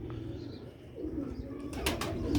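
Sialkoti pigeons coo in a low, steady murmur that continues throughout, with a few sharp rustling bursts near the end.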